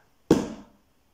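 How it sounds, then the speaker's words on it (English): A foley door bangs shut in an office scene, a single sharp, close thud that rings out briefly and fades within about half a second, heard alone. "The door bangs behind you."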